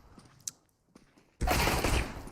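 Gunfire in Counter-Strike on the Dust2 map during an ESL One match: after near silence with a few faint clicks, a loud, dense burst of rapid shots erupts and holds for about a second.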